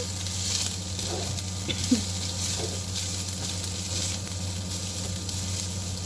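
Pasta sauce stirred in a pan, with a steady sizzle and frying crackle running throughout and soft scraping strokes now and then, close and moderately loud, with no talking.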